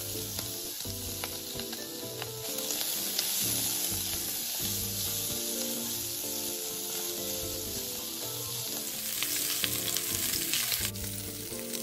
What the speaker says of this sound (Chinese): 接着将预先备好的花肉倒入，转用文火慢慢将花肉煸香